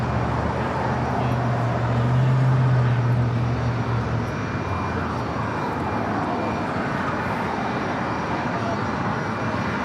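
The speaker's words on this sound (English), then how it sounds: "JetBlue Airways Flight 424. It's at 8321, now rolling down at 25 right." JetBlue airliner rolling down runway 25 right at LAX on its takeoff run, a continuous rumbling engine roar with a brief low drone early, swelling around two seconds then holding steady.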